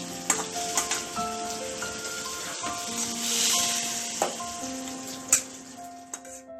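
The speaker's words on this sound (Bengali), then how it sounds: "এভাবে আমরা 5 মিনিট ভাজতে দিতে থাকবো।" Shrimp frying in a pan for a Bengali dish, a soft steady sizzle near the pan with scattered sharp clicks and taps and a swell of hissing midway. Faint sustained tonal sounds run underneath and no one speaks.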